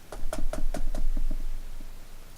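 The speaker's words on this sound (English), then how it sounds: "Immediately, there was a knock on the door." Knuckles rap on a door in a quick run of about seven knocks, loud and close at first, then softer and slower toward the end.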